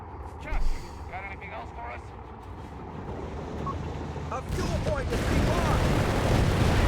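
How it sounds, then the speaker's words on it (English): Rolling battlefield gunfire and a building roar as a Panzer tank fires on a Hellcat tank destroyer in Company of Heroes 3, with a commentator's voice running over the combat. "Panzer diving in against the Hellcat, fire being unleashed upon the tank destroyer there"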